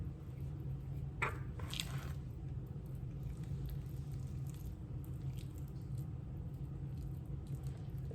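Seafood filling of crab, shrimp, lobster and cream cheese pressed into pasta shells in a pan gives a few soft, close squishy smacks early on, then quiet kitchen hiss.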